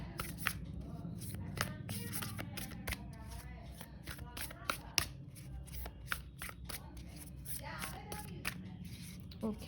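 Tarot cards being shuffled by hand in a steady run of crisp riffling flicks and soft slaps, close and fairly quiet, with a low room hum underneath and no talking.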